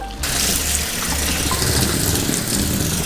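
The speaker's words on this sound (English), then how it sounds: "I am going to drain the water and also run the noodles under cold water" Water from a kitchen tap gushes steadily as cooked ramen noodles for cold hiyashi chuka are drained and rinsed under cold running water, a loud, continuous splashing rush throughout.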